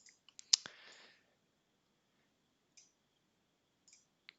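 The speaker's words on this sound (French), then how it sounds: "Clic de souris" A few crisp computer mouse clicks, one louder click with a short rattle early on, then faint isolated ticks spread across otherwise near silence.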